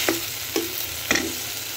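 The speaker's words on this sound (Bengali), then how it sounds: "ভালো করে পেঁয়াজের খোসাগুলো ভালো করে ভেজে কষিয়ে নেব।" Onion peels frying in a pan for a singi fish curry, a continuous sizzle broken by three scraping stirs at a steady pace, close and fairly loud with no talking.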